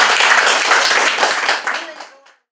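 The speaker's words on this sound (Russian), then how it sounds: "За это, мне кажется, вы заслуживаете самых бурных аплодисментов." An audience claps for radio host Alexander Ryabets at a celebration of his 20 years on air in Anapa. The clapping is thick and loud at first, then thins out and fades to silence after about two seconds.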